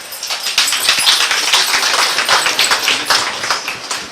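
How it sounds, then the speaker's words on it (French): Audience applause at a prize distribution ceremony in Cameroon, a dense crowd of clapping hands running steadily for about four seconds, loud and close, with no voices over it. "sous vos applaudissements"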